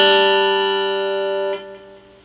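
Electric guitar playing a country double-stop bend lick at full speed, sustained bright chord tones ringing with a distinct shift midway and then fading out, close and clear with no talking.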